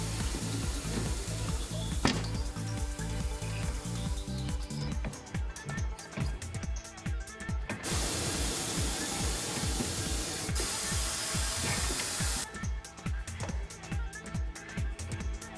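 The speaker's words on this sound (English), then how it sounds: "The tire is loosened from the rim with the bead breaker." A TWIN BUSCH TW X-610 tyre changer's bead breaker loosens a tyre from its rim, giving loud, sustained mechanical clattering and ratcheting with rhythmic pulses and hissy bursts, close and continuous throughout.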